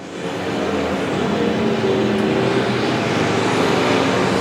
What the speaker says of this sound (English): Hendricks bounces it off the bottom of turn number 2 and now is about a half a car length clear of Phillips in the 21